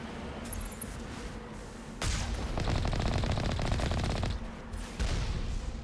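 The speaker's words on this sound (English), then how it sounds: "That rocket went right through the frickin' terrain" Rocket and heavy weapon fire in Mass Effect on Insanity difficulty, a sudden loud blast followed by a rapid rattling burst of repeated shots, then another sharp report, all fairly close and loud.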